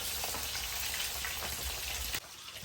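Stuffed bitter gourds deep-fry in plenty of very hot oil, giving a dense, continuous sizzle and crackle at fairly close range that dips slightly just before the end.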